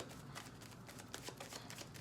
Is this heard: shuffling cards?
yes